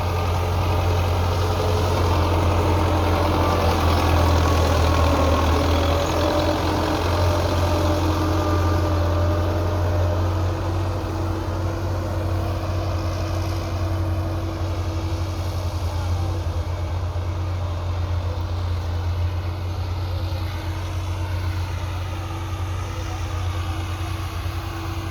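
Belarus tractors run steadily with a deep, continuous engine drone and low rumble, loud and close throughout without pause.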